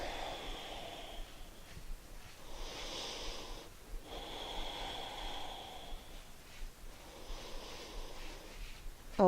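Slow, deep breaths in a gentle yoga class, airy inhales and exhales alternating in a steady rhythm, close and soft, with no talking.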